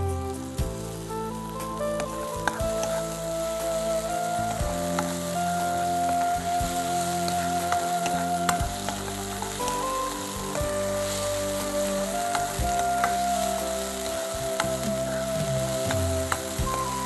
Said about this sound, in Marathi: मंद आचेवरती कांदा आणि टोमॅटो शिजून घ्यायचा आहे।